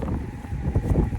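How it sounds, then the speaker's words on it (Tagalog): Wind gusting outdoors in thick snow in Georgia, USA, a steady low roar buffeting the microphone with swelling gusts throughout. "Humahangin pa"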